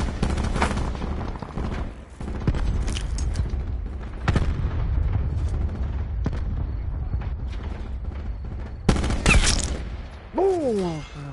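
Rapid gunfire from the video game Call of Duty Black Ops 4 crackles in loud bursts and single shots throughout, with a sharp explosion-like blast near the end.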